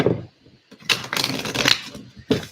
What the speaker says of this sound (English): helps them to channel their energy as I shuffle the cards